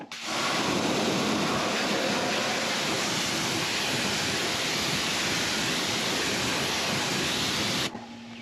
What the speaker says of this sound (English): you want to just keep rinsing until all the white stuff is gone